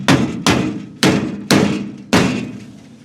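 Five heavy, evenly spaced hammer blows thud on a trailer, each a sharp impact with a short ringing decay, close and loud with nothing else around.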